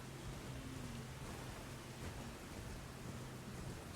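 Steady rain in the video game Elden Ring, heard as an even, hissing wash of rainfall with a low rumble underneath, constant throughout with no talking.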